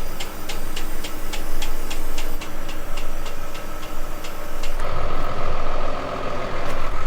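A tractor at the start of harvest folds up its farm equipment on the field edge, with a loud steady engine rumble, a regular ticking warning beep, and a hissing air release partway through, with no talk.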